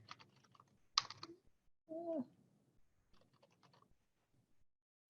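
Intermittent typing on a computer keyboard, scattered close key taps in short bursts with quiet gaps between them, and one brief tonal chirp in the middle.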